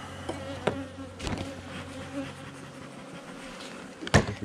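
A honey bee swarm buzzes continuously, its drone broken by several sharp knocks and handling thumps, with one loud clatter near the end.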